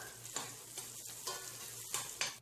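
Onion with cinnamon, clove and cardamom sautéing in a pan for ghee rice, with a quiet steady sizzle and several soft scraping stirs, each landing a little apart, and no voices.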